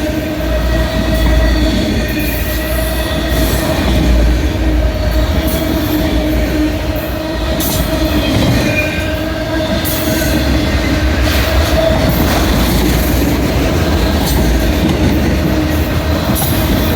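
A southbound freight train loaded with wrecked cars rolls steadily past close by, a continuous loud rumble with wheel squeal and rhythmic clatter of rail joints throughout, no speech.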